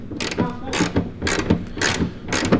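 A hand ratchet tightens a nut while an ECU is mounted, clicking in about five quick bursts of rapid pawl ticks, close and fairly loud, with brief pauses between strokes.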